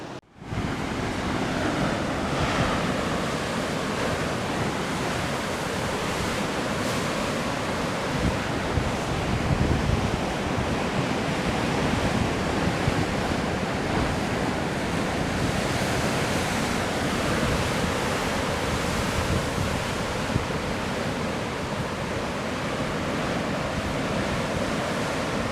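Large ocean swells and surf crash continuously along a rugged coastline with a gulch, producing a loud, steady roar of breaking water mixed with wind buffeting the microphone.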